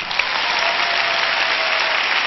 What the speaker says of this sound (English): If you want it, would you clap?